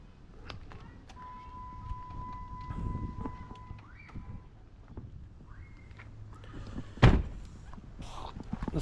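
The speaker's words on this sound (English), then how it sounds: "Close that door real quick." The door of a 2006 Dodge Ram 1500 Hemi 5.7 pickup truck shuts with a single sharp, solid thud near the end, after quiet shuffling and faint background sounds during a window rain guard install.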